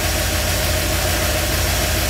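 A Ford F-350 engine idles steadily after a FiTech fuel injection install, a constant close rumble with an even low throb and no speech.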